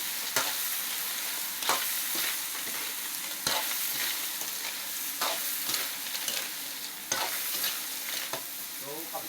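Squash and vegetables sauté in a hot pan, a continuous close sizzle punctuated every second or so by scraping stirs of a utensil, with no voices.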